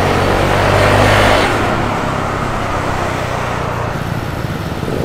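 A motorcycle or scooter with an open pipe exhaust revs loudly up close, the roar peaking early and then fading into a steady rumble amid road traffic.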